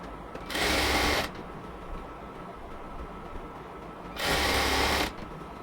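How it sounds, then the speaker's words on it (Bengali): Sewing machine lock-stitching thin piping in matching colour around the hem of a yellow cotton dress, with two short loud bursts of stitching separated by a quieter pause of low background hum. "প্রথমে হচ্ছে লক সেলাই দিয়ে নেব, এবার আস্তে আস্তে সেলাই করব এই দিক থেকে।"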